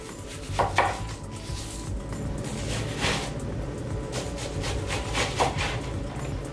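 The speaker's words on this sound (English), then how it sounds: "So right now I'm going to start on cutting up my onions." A knife chops onions for salsa on a cutting board, steady irregular thuds and taps repeating over several seconds, close and moderately loud, with a few sharper knocks standing out.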